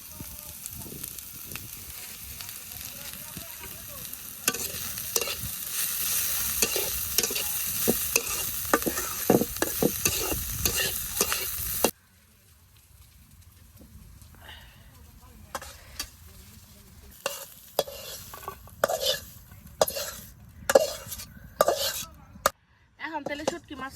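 Curry leaves fry in black cumin oil in a village kitchen pan, a loud broadband sizzle with stirring clatter for about twelve seconds, then quieter intermittent scraping and clinks.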